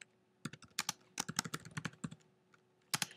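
Typing a folder name on a computer keyboard: quick bursts of close, crisp key clicks with short gaps, a brief pause, then a few more keystrokes at the end.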